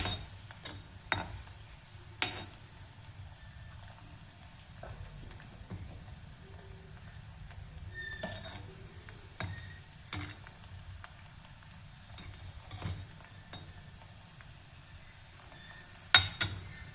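Sliced onions frying slowly in a pan over low heat for a Nagpuri saoji vadi vange dish, a soft steady sizzle with occasional clinks of a spoon or utensil against the pan, close and fairly quiet, no talking.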